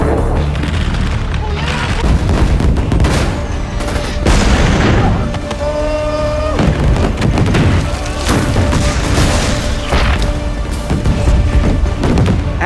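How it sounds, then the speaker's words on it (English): A barrage of guided missile explosions booming loudly in rapid succession, with sharp blasts, rumbling aftershocks and ringing debris, a chaotic onslaught of heavy impacts. "He proceeded to launch a barrage of guided missiles,"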